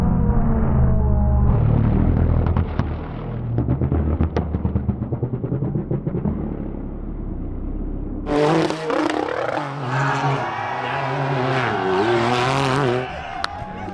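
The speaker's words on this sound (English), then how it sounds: "Drives back, comes full speed, boom, takes a jump." A car driving at full speed and taking a jump, its engine revving loudly and climbing in pitch, then a harsh sharp-edged roar with shifting tones after the jump.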